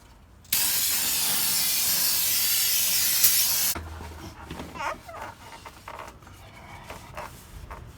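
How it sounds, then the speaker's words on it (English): A loud, continuous hiss of cleaner sprayed around the rear differential of a GM Silverado or Sierra truck, lasting about three seconds, then stops, followed by quieter dripping, clattering and shuffling sounds. "spray around the differential just to break off any loose dirt and grime"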